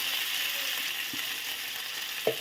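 Cumin seeds temper in hot oil, giving a steady high, fine sizzle close by, with a couple of faint clinks near the end.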